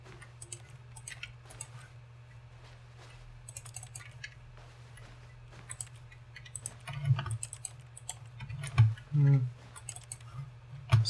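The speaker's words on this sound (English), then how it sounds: "Let's click some buttons" Office buttons being clicked in The Stanley Parable, a run of quick irregular clicks and taps over a steady low hum, with a few heavier thumps toward the end.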